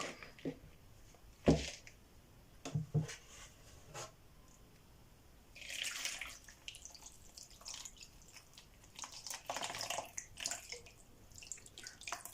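Soil is washed off the roots of a myrtle plant during spring repotting. Water drips and trickles close by with scattered splashes and rustles, in bursts over about twelve seconds, and no one speaks.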